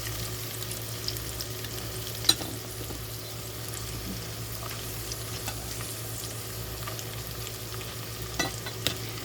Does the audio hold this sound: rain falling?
no